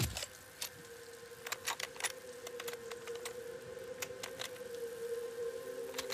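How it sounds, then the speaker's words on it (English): Jimmying a door open in the video game Days Gone, a series of sharp metallic clicks and rattles over a steady tonal hum, close and moderately loud, no talk. "Now I just gotta jimmy that door."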